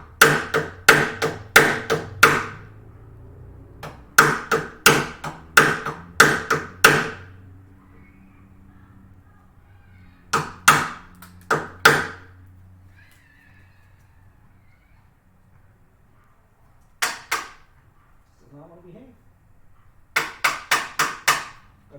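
Mallet strikes driving a chisel into wood while fitting an end vise, sharp loud blows in quick bursts of three to six, separated by pauses with brief quiet shuffling.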